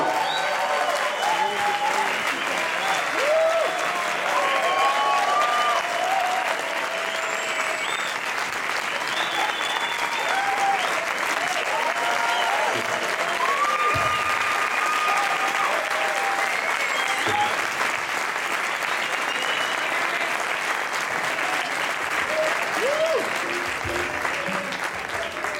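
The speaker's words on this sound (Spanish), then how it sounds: "Un aplauso por favor a Giovanni." Long, sustained applause from an audience for the percussion master Giovanni Hidalgo at a master class, dense clapping holding steady throughout with some scattered crowd voices and whoops mixed in.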